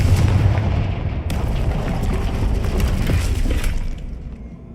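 Spell blasting through a barrier in a Harry Potter video game, a loud booming explosion with crumbling, crashing debris that rumbles on and then tapers off.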